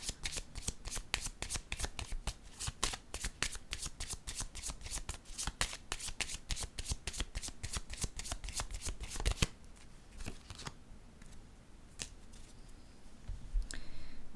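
Tarot cards are shuffled in a rapid riffle of crisp flicks for about nine seconds, then handled more slowly with a few soft slaps as cards are set down, close and fairly quiet.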